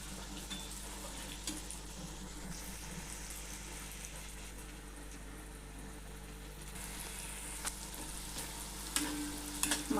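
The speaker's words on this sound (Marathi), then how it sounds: "मसाले छान परतून झालेले याच्यामध्ये" Spices softly sizzling and being stirred in a pan for Punjabi chole masala, a faint steady frying hiss with occasional scrapes and clicks of a spoon.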